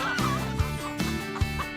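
Cartoon chickens in a My Little Pony episode cluck repeatedly over a background of music, with several short, close clucks popping out every half second or so.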